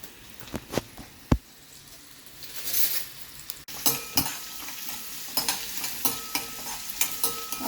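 Green chilli and onion crackle in hot oil for a Goan Saraswat tempering, with sharp scraping stirs, a loud clank of a spoon and steady sizzling that rises and falls, close by and without voices.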